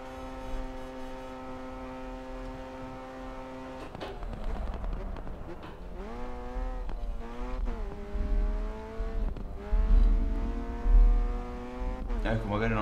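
A race car's engine revs and shifts during drifting in the racing game GRID 2, rising and falling tones at close range over a low rumble, with bursts of tire noise.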